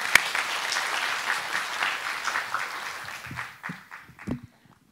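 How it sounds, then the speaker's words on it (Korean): An audience at an ESG disclosure seminar gives a speaker a dense burst of applause that rolls on for several seconds, then thins to a few scattered claps and fades out. "우리 알렉스한테 다시 한번 뜨거운 박수 부탁드리겠습니다"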